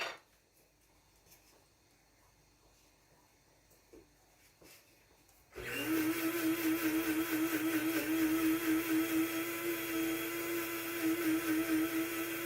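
Electric grinder whirring loudly as it pulverizes ginger into powder, a steady high motor drone starting abruptly after a quiet stretch and running continuously to the end.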